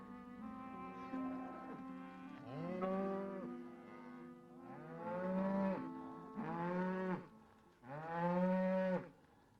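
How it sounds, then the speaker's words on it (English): Dairy cows on a modern dairy farm moo repeatedly, several long, loud, drawn-out calls overlapping in a steady rhythm, close by and clear, with no talking. "As someone who had to milk her cows by hand, Vera finds the efficiency of a modern dairy farm amazing"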